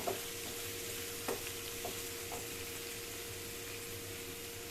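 Grated radish sautéing in a pan for a radish chutney, a steady soft sizzle with a few light scrapes of stirring, heard alone without talk.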